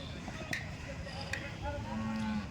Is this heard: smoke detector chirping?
no